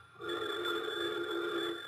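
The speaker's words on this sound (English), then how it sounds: "pardon me, the phone's ringing." A telephone bell rings steadily in a 1950 radio drama, a sustained bright tone that starts abruptly and holds at moderate loudness.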